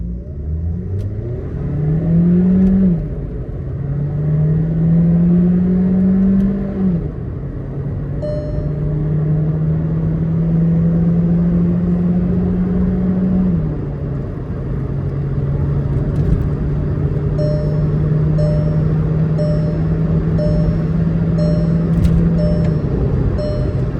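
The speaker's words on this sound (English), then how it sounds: "Let's put this in sports mode activated. So revving the motor, launching this." A Skoda Slavia sedan with the 1.5 TSI engine and automatic gearbox, set in sports mode, revs hard in steady rising and falling sweeps, a loud close engine drone climbing and settling through several pulls with no talk over it.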